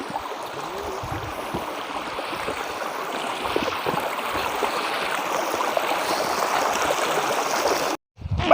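Chaul Bhaja waterfall in Mayurbhanj, Odisha roars as a steady, loud rush of falling water, continuous and broadband throughout, cutting off briefly near the end.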